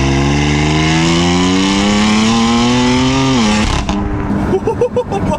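A remapped BMW M4 accelerates hard, its engine note climbing steadily in pitch as it revs up, then breaking into rough crackles and pops as the throttle lifts near the end; loud and close.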